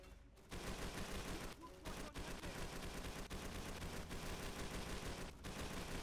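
A mounted machine gun fires continuous rapid bursts at close range in Call of Duty 3 at a fuel plant, with brief gaps between the dense rattling volleys.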